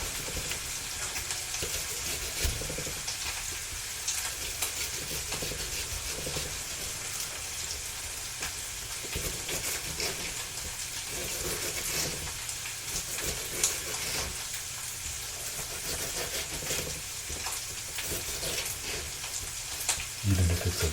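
Ground beef frying in a pan for a cottage pie, a steady, dense sizzle that holds evenly throughout with no pauses, close to the pan and alone, with occasional faint stirring noises.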